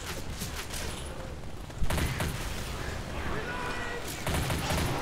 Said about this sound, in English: the explosion effects in this game are nice